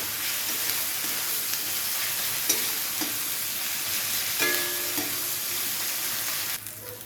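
Onion, garlic, ginger and green chilli paste sautéing in a pan for a Bengali fish curry, a loud continuous sizzle with occasional spoon scrapes and clinks throughout.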